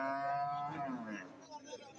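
Bull calves lowing at a busy cattle market, drawn-out harmonic moos close by with a murmur of market noise behind them.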